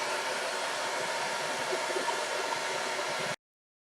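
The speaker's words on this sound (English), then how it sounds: "Now we got this blow dryer. This is to heat it up so it sticks to the pumpkin better." A handheld blow dryer heats craft vinyl applied to a pumpkin, giving a steady, close, loud rushing whoosh that runs unbroken for over three seconds and then cuts off abruptly.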